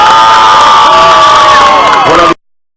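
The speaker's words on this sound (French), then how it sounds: "On peut l'applaudir une première fois tous ensemble" A large crowd at the Paris-Roubaix 2016 cycle race cheers and shouts for cyclist Peter Sagan, with high whoops and children's voices over a loud, steady roar that cuts off abruptly near the end.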